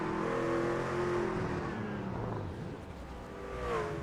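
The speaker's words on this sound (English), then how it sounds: "it sounds like that truck is out of fuel" A racing truck engine in a video game hums with fading tones as it runs out of fuel, its pitch wavering and dropping as it loses power, then briefly picking up near the end.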